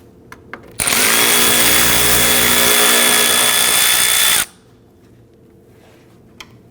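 A power driver whirs loudly and steadily for about four seconds, backing out a T25 Torx screw from the bumper cover of a 2009-2017 Volvo XC60, with quiet handling before and after.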